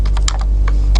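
Keys clack on a computer keyboard as C code is typed during a programming lecture, a quick run of about seven crisp close-up taps over a low steady hum.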